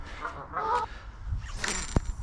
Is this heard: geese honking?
yes